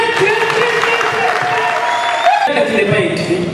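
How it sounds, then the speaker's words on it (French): Loud, sustained applause from the audience at a Kinshasa press conference for an improvisation and jazz festival, with a voice speaking over the clapping. "Est-ce qu'on peut applaudir encore?"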